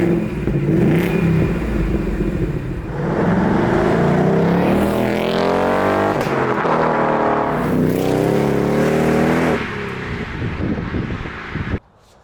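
A Ford Mustang Mach 1 exhaust rumbles loudly and close, rising in two long revving sweeps with a deep throaty growl before cutting off abruptly.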